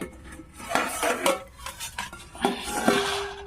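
A lid goes onto a pan while jaggery-filled patishapta cooks, making a clatter of metallic clinks and knocks close by, followed by a sharp ringing tap near the end.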